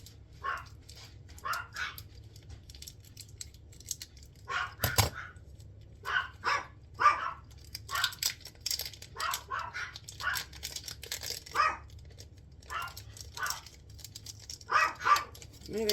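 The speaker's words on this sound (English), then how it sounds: "Had to get him to quit barking" A dog barks repeatedly in a home kitchen, with sharp, loud, irregular bursts spread across the stretch and short yips between them.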